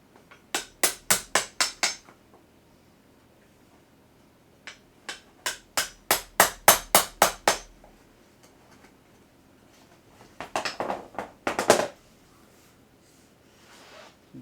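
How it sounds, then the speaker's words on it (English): A steel hammer strikes a wood chisel while a headset jack mount is being finished in the rebuilt cockpit of a 1960s Cessna 172F. Sharp, close taps land in quick rhythmic bursts, about six, then eight, then a denser cluster, with pauses between. "I have this hammer and this wood chisel."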